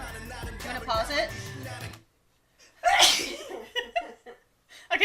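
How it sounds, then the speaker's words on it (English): A single loud, close sneeze bursting out after a brief silence, preceded by excited talking and followed by breathy laughter. "I'm gonna sneeze."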